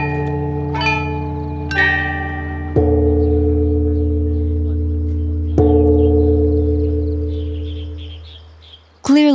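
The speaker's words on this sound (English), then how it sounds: "The melody is played on the top bells, the accompaniment on the giant bells below." An ancient bronze bell set is struck, with a melody on the small top bells and accompaniment on the giant bells below. The deep tones ring out and decay slowly between strikes, and a sharp, bright hit comes at the end.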